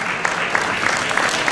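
Crowd applause at a Miss Roma beauty pageant, an even wash of clapping from a sizeable audience with a few sharper individual claps standing out, moderately distant.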